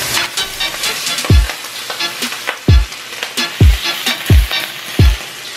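Turkey bacon sizzling in a pan for breakfast, a close, continuous crackle of frying fat. Five deep, sharp thuds fall at irregular intervals over the sizzle, and no one speaks.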